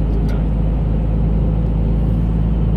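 A truck's engine brake holds a 40-ton load in tenth gear at 1200 to 1300 rpm, giving a loud, steady low rumble that drones without a break from start to finish.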